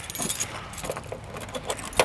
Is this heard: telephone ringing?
no